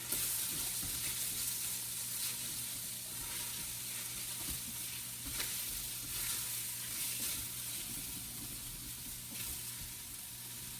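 Sausage frying in an Instant Pot, a steady close sizzle with faint scraping stirs, running evenly and alone with no voices throughout.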